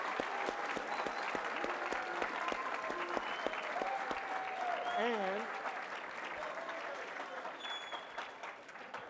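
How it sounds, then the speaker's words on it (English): A live audience applauds Aeneas Williams at a Pro Football Hall of Fame event: steady, dense clapping that holds for several seconds and slowly thins, with a speaking voice over it. "let's give another big round of applause for Aeneas Williams"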